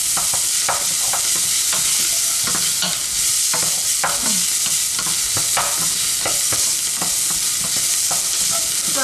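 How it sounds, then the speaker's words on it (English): Onion fries in a hot pan with a loud, steady sizzle and frequent stirring clicks and scrapes close up, no voices. "So I've started to fry the onion until it starts to go a lovely golden brown colour."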